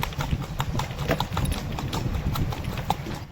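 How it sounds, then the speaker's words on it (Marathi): Horseshoed hooves clip-clop in a quick, steady rhythm close by, a continuous run of sharp strikes over a low rumbling background. "याच्या घोड्या पायाला नाल बांधलेली आहे"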